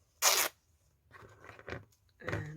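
Scissors or hands cutting a piece of craft material for a mixed-media junk journal page, heard as a loud rasping cut followed by softer rustling and crinkling handling sounds, close up with no talk.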